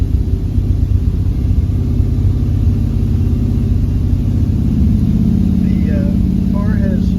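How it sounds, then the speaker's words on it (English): A 1929 Ford Model A pickup truck's engine runs after a cold start, heard from inside the cab as a low, even, continuous rumble with a faint voice near the end. "Now we're going to do a cold startup from the inside of the 1929 Ford Model A pickup truck."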